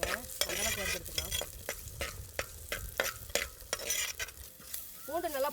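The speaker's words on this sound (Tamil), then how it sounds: "பூண்டு நல்லா பொன்னிறமாக வறுபட்டுருச்சுங்க." Garlic frying in a little oil in a pan until golden, with a steady, moderately quiet sizzle broken by regular sharp spatula scrapes and taps close by.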